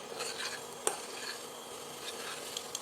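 Pasta with masala being stirred in a pan over low flame, a soft steady scraping and faint sizzle with a couple of sharp utensil clicks against the pan.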